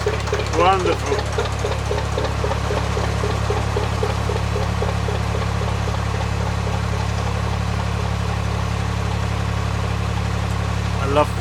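An old narrowboat engine chugs steadily as the boat passes on a canal, a low, even idling thrum with a regular knocking beat, fairly close and continuous, with brief talk near the start.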